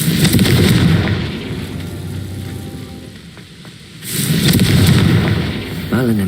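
A Confringo fire spell blast in the Hogwarts Legacy video game, a loud sustained fiery roar that swells twice with a dip between.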